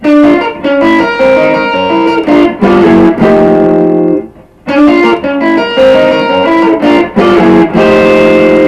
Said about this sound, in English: Turnaround lick number 9 is a descending lick